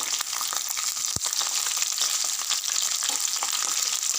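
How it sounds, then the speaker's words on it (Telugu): Chopped green chillies with chana dal fry in hot oil in a tempering for leftover-rice thalimpu annam, giving a continuous loud sizzle with faint stirring and one brief knock partway through. "శనగపప్పు ఫ్రై అయినాక ఒక రెండు మూడు పచ్చిమిరపకాయలు కట్ చేసి వేసుకోవాలి"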